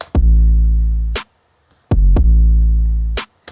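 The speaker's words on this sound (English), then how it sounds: "so what I did was add this layer of another clap" A layered clap sample in a remix beat snaps twice, each hit followed by a long, deep sustained tone, loud and close with short gaps between.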